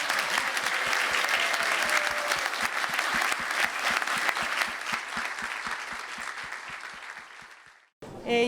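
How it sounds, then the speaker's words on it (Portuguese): Applause from an audience at a 100th birthday celebration honoring Professor Adriano Moreira, a dense, sustained ovation of many hands clapping steadily before fading and cutting off near the end. "Uma salva de palmas"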